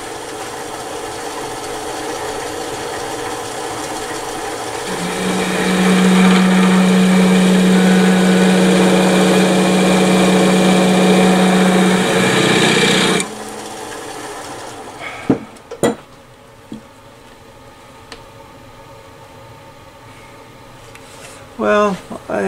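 A wood lathe spins at about 450 RPM during woodturning with Sorby spiraling and texturing tools, a steady whirring rasp that swells with a sustained hum, then stops abruptly, leaving scattered knocks and quiet talk.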